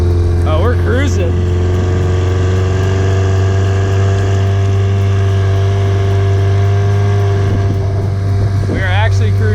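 Outboard motor driving an amphibious go kart on water, a loud steady droning hum with wind buffeting the microphone and voices speaking briefly near the start and end.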